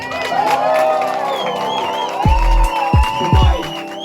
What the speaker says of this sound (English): Can we have a round of applause, please, for both our incredible headliners.